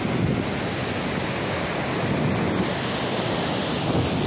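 Surf rolls in steadily at Praia do Cotovelo beach in Rio Grande do Norte, a close, continuous roar of breaking waves mixed with wind buffeting the microphone, with no talking.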